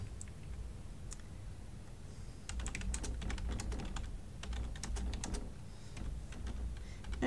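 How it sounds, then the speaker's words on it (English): Quiet, irregular clicking of keys on a computer keyboard, bursts of fast typing over a low room hum, fairly faint and close. "Sorry, my typing's a little off here."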